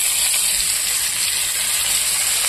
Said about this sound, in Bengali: মছলিটা ভেজে নেব।